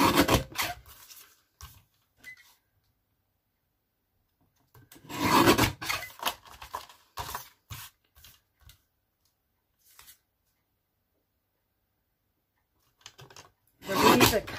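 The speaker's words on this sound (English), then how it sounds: "Just use this little trimmer. Just want to trim off just a couple of millimetres on each" A small paper trimmer slices a few millimetres off the edges of a card, giving short raspy sliding strokes in separate bursts with quiet gaps between, close and fairly loud.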